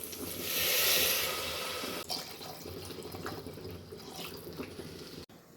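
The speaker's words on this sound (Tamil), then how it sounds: "இதுக்கு 2 கிளாஸ் தண்ணி ஊற்றிக்கிறேன்." Two glasses of water poured into a pot of tomato rice being cooked, a steady close splashing pour that swells early, then continues more softly with drips and small clinks.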